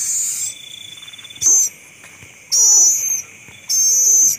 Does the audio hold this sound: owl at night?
yes